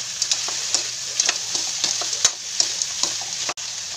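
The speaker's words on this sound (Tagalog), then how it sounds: "Gisa po natin mabuti." Ingredients for jackfruit in coconut milk sautéing in a pan, with a steady hiss and sizzle and irregular stirring scrapes and clatters throughout, close and alone.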